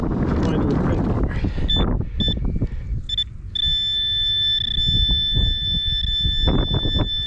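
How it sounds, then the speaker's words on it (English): Metal detector sounding a steady high-pitched electronic tone over a target in a hole at a Civil War camp site, with short beeps turning into a sustained whine amid digging scrapes, rustling and talking. "metal detector says still in the hole"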